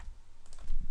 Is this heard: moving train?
no